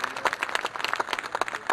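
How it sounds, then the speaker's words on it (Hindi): Audience at a speech in Gorakhpur breaking into a burst of enthusiastic applause, dense fast clapping from a crowd filling the whole moment. "जोरदार तालियां इनके लिए भी।"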